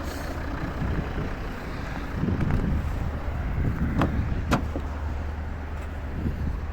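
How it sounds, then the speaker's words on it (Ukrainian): Volvo V70 engine idling steadily under broadband wind and road-like rumble, with a few brief clicks over a constant low hum. "Двигун класно працює."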